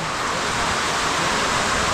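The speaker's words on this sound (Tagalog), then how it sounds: "Grabe yung ulan, ang lakas." Heavy rain pours down in a loud, dense, unbroken hiss, a steady downpour that fills the whole moment with no talk.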